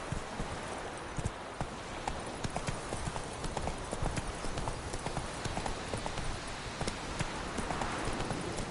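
Roach, a horse in The Witcher III, gallops in a steady, rapid clip-clop of hooves, close and prominent throughout.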